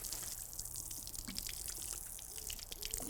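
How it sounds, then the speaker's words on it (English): Water poured onto an imprinted concrete driveway, a faint steady splashing and trickling with small drips across the surface. "if we put some water on the surface"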